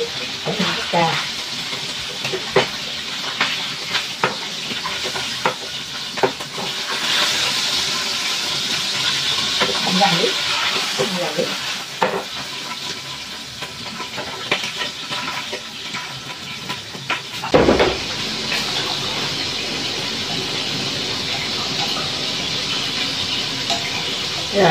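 Soup with fish and bones simmering in a pot on a home stove, a steady bubbling sizzle and stirring close by, continuous with small clinks and brief water sounds.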